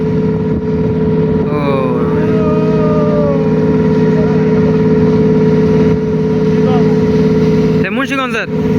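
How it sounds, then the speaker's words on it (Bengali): A passenger launch on a river near Chandpur drones steadily and loudly as it approaches at speed, its engine hum constant throughout, while a person talks over it at moments. "লঞ্চ আসতেছে, কতটা স্পিড নিয়ে আসতেছে দেখছেন।"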